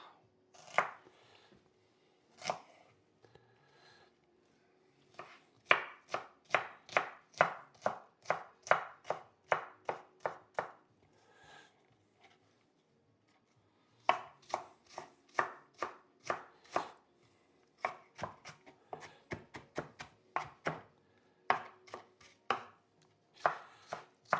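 Food being chopped by hand with a knife on a board for spicy keto meatballs, quick close bursts of rhythmic chops separated by brief pauses, with no talking.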